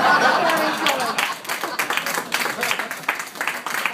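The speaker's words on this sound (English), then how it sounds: "Keep clapping, I got 10 seconds left." Audience at a comedy club in Levittown, New York breaks into sustained applause, dense clapping filling the room for the full stretch before thinning slightly, with scattered crowd murmur mixed in.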